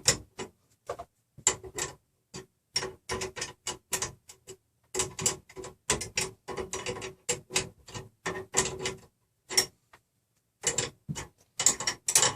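Wrench turning a nut on the Z axis of a RepRap Prusa Mendel 3D printer, crisp metallic ratchet clicks in quick bursts separated by short pauses, close and clear with no talk.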